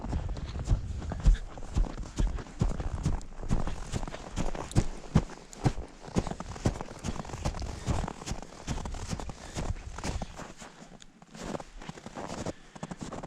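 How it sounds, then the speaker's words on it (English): Boots stomping on a frozen snow-covered creek crossing in bush Alaska, a run of heavy irregular thuds and crunches, close and fairly loud, with wind in the background. "I'm gonna check the crossing, stomp my feet around, make sure it doesn't sound too hollow"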